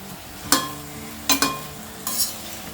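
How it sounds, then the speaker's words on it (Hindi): Chopped tomatoes with fenugreek leaves in a pan, heard as three separate bursts of clatter and sizzle from stirring, the second a quick double hit, over a low steady background. "अब हम इसमें डालेंगे ये चॉप्ड टमाटर,"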